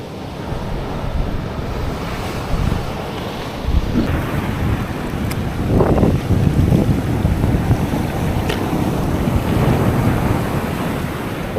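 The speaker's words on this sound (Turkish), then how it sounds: "Oğlum fena büyüdü dalgalar." Storm at a tent by the sea: loud, continuous wind buffeting the microphone with big waves crashing and rumbling beneath, a heavy, unbroken roar throughout.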